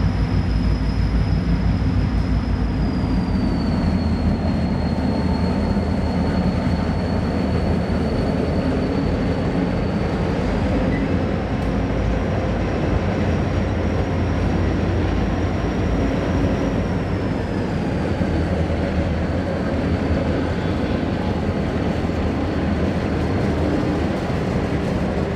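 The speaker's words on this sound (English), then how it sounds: "number 2315 leads today's train back to Albany" Portland & Western freight train led by locomotive number 2315 on the Toledo District, rolling steadily past with a loud continuous rumble and a sustained high horn-like tone that shifts pitch, no talking.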